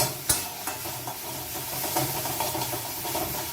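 Kharkol leaf paste frying in a wok, stirred steadily with soft scraping and a low continuous sizzle, with a sharp knock near the start.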